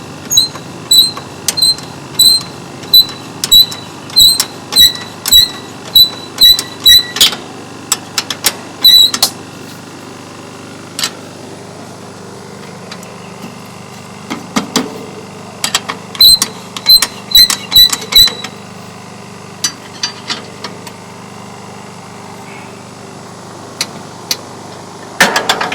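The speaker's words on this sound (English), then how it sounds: "You can hear this one squeaking." A spring actuator on a high mast light squeaks during maintenance, giving a repeated series of short, sharp, high squeaks in a steady rhythm, then a pause and another run of squeaks amid mechanical clicks and clanks.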